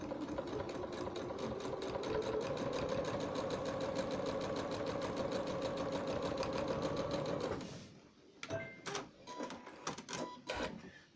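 A sewing machine pieces fabric with an HP foot, running in a fast, even stitching rhythm for several seconds before stopping, then a few scattered handling clicks and bumps follow.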